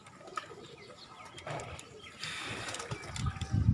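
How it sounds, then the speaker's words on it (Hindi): Pigeons coo softly on a rooftop loft of champion birds, a low murmuring that swells toward the end over faint street and wind noise, with someone talking nearby. "ये यहाँ पे चैम्पियन कबूतर हैं"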